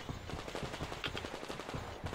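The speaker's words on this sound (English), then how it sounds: "Gunshots!" Gunfire in the video game Metro Exodus, a rapid burst of repeated shots fired in quick succession, fairly faint and steady throughout with no talk over it.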